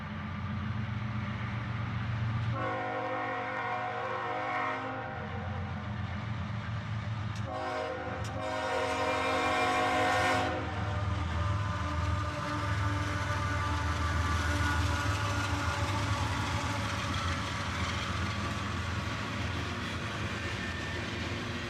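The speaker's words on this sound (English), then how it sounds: "A northbound manifest train this time, led by a pair of the S44 ACHs." A CSX northbound manifest freight train led by two S44 ACH locomotives rumbles past steadily and loud, with two blasts of its horn sounding over the continuous rolling of the railcars.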